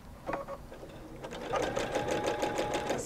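A sewing machine stitching with metallic thread for free-hand quilting, fitted with a Microtech size 80 needle: a soft start, then a steady rapid mechanical clatter of stitches, close and alone.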